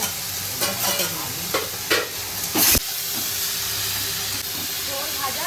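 Food fries in a pan with a steady, close sizzle and hiss, broken by several louder bursts of spattering and stirring.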